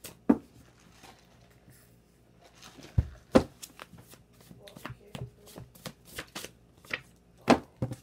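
Tarot cards being shuffled in scattered bursts, sharp close riffles and taps separated by quieter handling, fairly soft overall.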